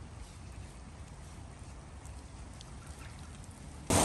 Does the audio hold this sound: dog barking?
no